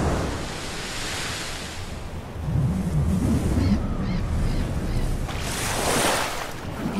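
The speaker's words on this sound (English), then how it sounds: "Waves, bigger than whales, bigger than ships." Heavy ocean waves in a storm, a continuous broad roar of surf and wind that swells into louder crashing surges, with no voices.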